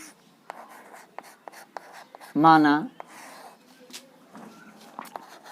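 A pen scratches out a handwritten maths solution for an NCERT geometry exercise on angles, with light tapping strokes and scribbles close by, interrupted by one short voiced sound.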